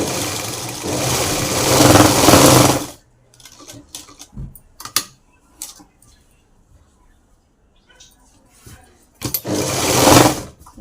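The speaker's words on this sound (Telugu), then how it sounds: "దీన్ని మన సైడు అంచులకి స్టిచ్ అయితే వేసుకుందాం" Sewing machine stitching piping onto the side edges of a blouse, running in two loud continuous bursts at the start and end with quieter handling and fabric rustles between.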